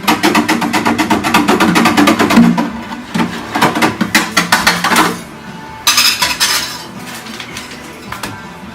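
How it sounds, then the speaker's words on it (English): Hard apple cider stirred in a pot, loud rapid rhythmic clinking and scraping of a utensil against the sides, pausing briefly and then resuming in bursts. "Now I need to stir it up."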